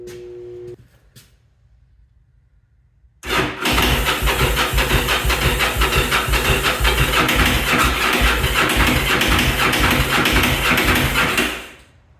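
A Yamaha V Star motorcycle cranks on a weak battery: a short quiet whine first, then after a pause the starter churns loudly and continuously for about eight seconds before stopping abruptly.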